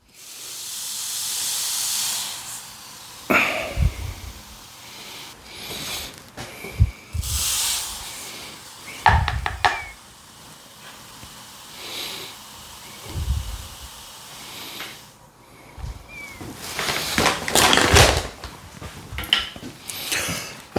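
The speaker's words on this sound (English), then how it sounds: "So now I'm just going to put 100 grams, that's half a cup of sugar in each one." Sugar is poured into turbo yeast containers, with several bursts of granular hissing and rustling between quieter gaps and occasional clunks of plastic containers, close by and without talk.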